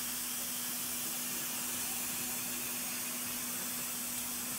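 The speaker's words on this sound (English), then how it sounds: "First thing is the machine will move up in the Z-axis." A MultiCam 3000 Series 4x8 CNC router with an auto tool changer rising on its Z-axis while homing, a steady airy hiss with a constant low mechanical hum, even and unbroken throughout.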